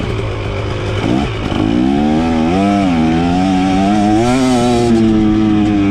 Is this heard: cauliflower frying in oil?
no